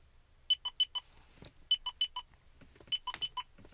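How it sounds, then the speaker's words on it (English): A Mercedes 300CD sounds its warning chime after the ignition key is pulled: groups of short, bright electronic beeps in quick bursts of four, repeating with pauses, faint and isolated in a quiet car interior. "There's the beep boop beep boop."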